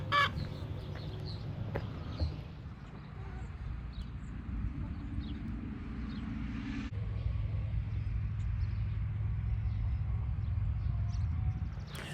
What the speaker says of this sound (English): I miss the sound of the hens clucking and stuff.